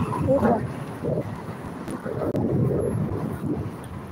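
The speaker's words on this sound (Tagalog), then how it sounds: "May hangin dito." Low, rumbling wind buffets the microphone steadily throughout at the Quirinale in Rome, with a soft broadband roar and gusty swells.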